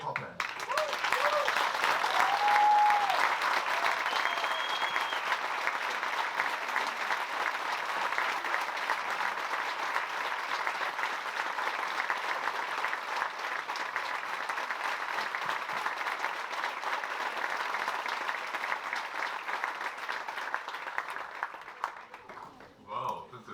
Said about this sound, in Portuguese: a quem eu quero uma salva de palmas de pé, que é a pessoa mais importante da empresa que eu conheço, Dr. José Calprano.